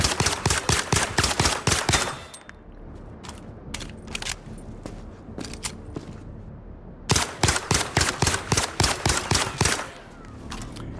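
Rapid automatic gunfire from the Zero Caliber VR shooting range game: close, loud bursts of fast repeated shots, a quieter stretch of scattered single shots and mechanical clicks, then another sustained burst.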